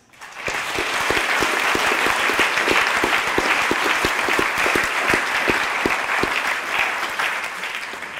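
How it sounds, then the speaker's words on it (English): An audience gives a sustained round of applause for award recipients at an evening awards event, steady dense clapping with sharp individual claps throughout, rising quickly and tapering near the end. "can we just have another round of applause for our um, awardees?"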